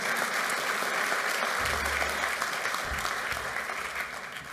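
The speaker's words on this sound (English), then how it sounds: "So one more round of applause for those two." Sustained applause from an audience at a GED graduation ceremony, a steady wash of many hands clapping throughout, with a low rumble entering partway.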